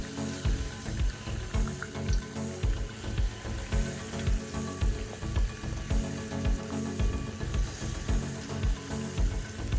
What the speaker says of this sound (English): I'm now frying everything.